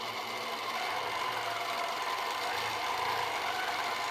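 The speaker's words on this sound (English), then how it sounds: "Stitch just a little bit to make sure that thread is locked." Sewing machine stitching a quilting swirl, a steady fast mechanical whir with rapid needle ticking, close and continuous, no voices.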